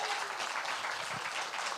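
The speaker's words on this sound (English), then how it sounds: "a round of applause for all the comics y'all seen so far" Audience applause at a comedy showcase for the comics who have performed, a steady broadband wash of clapping throughout the short stretch with no voice over it.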